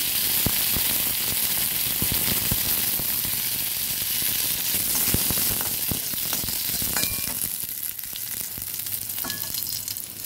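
Curry leaves and chopped green chili hit hot oil in the wok used for frying peanuts, giving a loud, steady crackling sizzle that holds for the whole stretch with occasional sharp pops, no talking.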